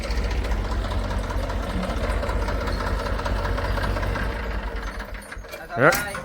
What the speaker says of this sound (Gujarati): આજ આ ટ્રેક્ટરની બગડાટી બોલાવવાની છે